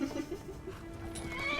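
A horse in the video game Skyrim gives a short, faint whinny under a quiet background.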